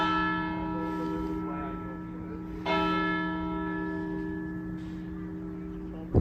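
The church bell at St. Mary's, Rye rings with a sustained, resonant tone, struck again partway through, and its long ringing decay carries on alone.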